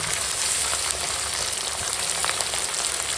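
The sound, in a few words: vegetables frying with chili and turmeric powder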